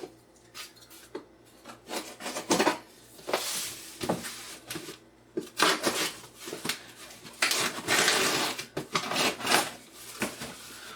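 A boxed 1950s Ekco Eterna hand egg beater is unpacked with a run of irregular rustling, scraping and rubbing of cardboard and paper, close and bursty, with no talk.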